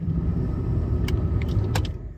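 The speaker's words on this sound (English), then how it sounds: "Now if I turn the key on, the blower fan is blowing." A blower fan runs steadily inside an MG MGC GT car with the key switched on, giving a continuous broadband whoosh with a low rumble beneath, plus a few brief faint clicks and rattles.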